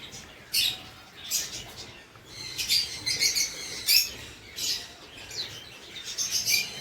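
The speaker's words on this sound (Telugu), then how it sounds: "ఇవి ఆఫ్రికన్ లవ్ బర్డ్స్ అనుకుంటాం" African lovebirds chirp and squeak in bursts of high, shrill calls, several birds fairly close, with short pauses between flurries, at an exotic bird and pet park in Wayanad, India.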